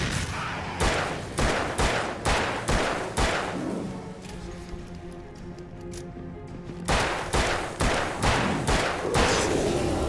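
Loud, regularly spaced gunshots in Alan Wake fire in a steady series, pause for a few seconds while a low drone lingers, then resume in another rhythmic volley.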